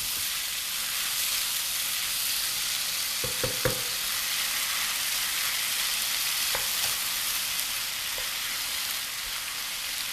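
Chicken stir fry with oyster sauce sizzles steadily in a hot pan, a constant bright hiss with a few short clinks of a utensil against the pan, no voices.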